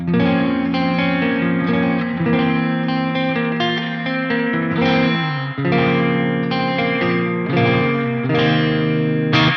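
Electric guitar through a lunchbox amp's clean channel with reverb plays chords and picked notes with a clean, ringing tone and spacious reverb tails, loud and continuous with no talking.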